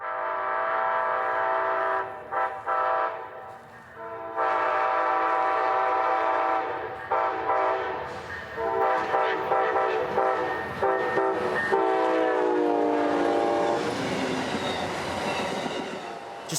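Freight train 92 races north at speed at twilight west of town, a loud, sustained horn blast of stacked tones sounding repeatedly over the steady roar and rumble of rolling cars, close by.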